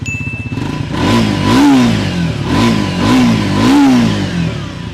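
A 2024 Triumph Scrambler 400X motorcycle's 398cc liquid-cooled single-cylinder engine idles with a steady thump, then revs up loudly three times, each rise falling back toward idle.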